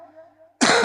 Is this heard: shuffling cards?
no